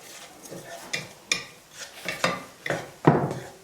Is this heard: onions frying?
yes